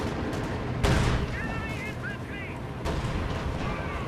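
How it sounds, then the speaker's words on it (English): Artillery fire in Company of Heroes 2, with heavy booming impacts and sharp reports over a continuous battlefield din, plus brief whistling shells and someone talking underneath. "Getting artillery."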